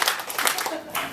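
A group of staff at a workplace meeting claps in welcome for a new colleague, a brief burst of applause from several hands over steady room noise.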